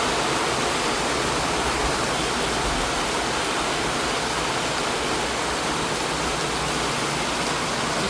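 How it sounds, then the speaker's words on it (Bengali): Heavy rain pours down steadily, loud and continuous, a dense hiss of water with no pauses, the downpour flooding water into a garment factory. "অনেক বৃষ্টি হইতেছে,"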